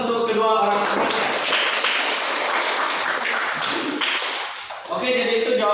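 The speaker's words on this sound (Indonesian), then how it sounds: "kita berikan aplaus untuk kedua orang tuanya" Audience applause in a classroom for students' parents, a dense burst of clapping lasting several seconds, with voices talking at the start and end.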